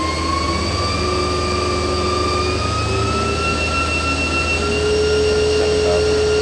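Spindle of a Mazak vertical machining center running at 5,000 RPM, a steady loud mechanical whine with rising high tones and a constant low hum underneath, heard alone with no talking.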